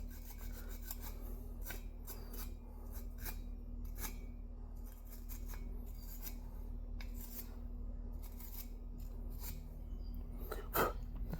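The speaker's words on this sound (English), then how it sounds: "Make sure I get all this RTV off." Sealant being scraped off a Husqvarna 450 dirt bike engine case, a steady run of short raspy scraping strokes over a constant low hum, close and moderately loud, with no talking.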